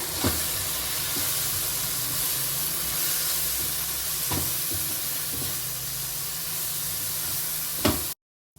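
Spice masala of chilli powder, turmeric and mutton masala being stirred in a hot pan for mutton masala curry, a continuous loud sizzle and hiss with a few sharp scraping stirs, ending abruptly in silence.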